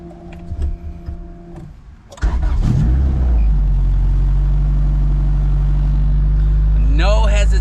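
A Honda CRX engine cranks and catches after a couple of seconds of quieter background sound, then settles into a loud, steady idle up close before a few sharp revs near the end.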